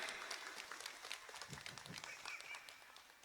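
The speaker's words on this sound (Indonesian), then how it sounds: "Tepuk tangan untuk nini Muslimat." Audience applause at a humorous Sundanese religious lecture, a quiet, even wash of many hands clapping, heard from a distance with no one talking over it.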